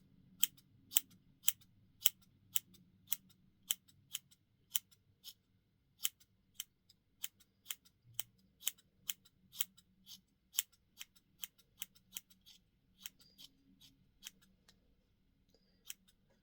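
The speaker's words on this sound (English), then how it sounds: "start cutting upwards. So like facing my scissors so that they're like kind of diagonal." Scissors snip through material in a quiet room, sharp isolated clicks coming one after another at an irregular pace, with short pauses between cuts. The blades work diagonally upward around a top edge.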